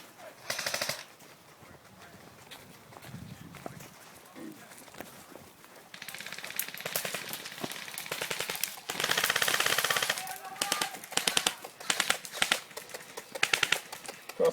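Rapid bursts of airsoft gunfire at Mission Airsoft, sustained and continuous in stretches, mixed with rustling movement and distant voices outdoors.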